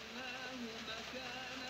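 Steady rain falling on a surface, a soft continuous hiss with faint scattered patter, quiet and even throughout with no voices.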